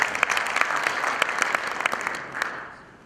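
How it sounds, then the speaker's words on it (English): Audience applause at a conference session, steady clapping from a seated crowd that holds for about three seconds and then tapers off toward the end. "please give another applause to Arthur"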